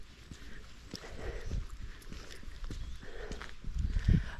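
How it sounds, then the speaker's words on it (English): Horse hooves clip-clop at a walk along a nature path near Turku, Finland, in a loose, fairly close rhythm of thuds over soft outdoor background noise. "Oh, I think I see a horse."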